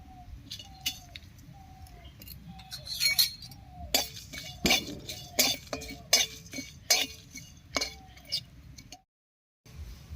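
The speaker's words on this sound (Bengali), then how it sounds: "এবারে শুকনো খোলায় কয়েকটা মশলা ভেজে নেব।" Whole coriander, cumin and garam masala spices are dry-roasted in a hot wok, with a spatula scraping and clinking against the metal in a loose, uneven rhythm, close and fairly quiet.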